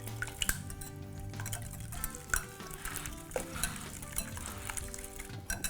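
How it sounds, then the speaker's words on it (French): Wet ingredients being stirred together with olive tapenade in a bowl for savory muffins, a continuous soft squelching and scraping with occasional utensil taps against the bowl, close up and steady with no talking. "je mélange les ingrédients humides ensemble"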